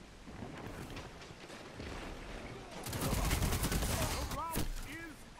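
Rapid bursts of gunfire from the video game Destiny 2 crackle loudly in a dense, continuous volley, intensifying midway, with a few brief voiced sounds near the end.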